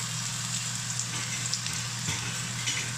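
Minced garlic fries in hot oil in a wok for a stir-fried fly's head dish, giving a steady, close, even sizzle with a faint low hum beneath and no talking.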